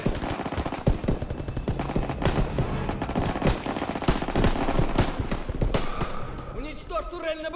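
Turret machine gun on an armoured personnel carrier in Call of Duty: WWII, firing long, loud, rapid rattling bursts almost without pause amid wider battle noise, easing off near the end.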